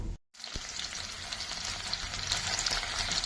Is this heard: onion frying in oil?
yes